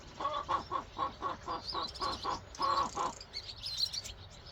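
Young broiler chicks, 53 of them brooding on a patio, chirp in a rapid run of high peeping calls. A pause follows, then fainter chirps trail off.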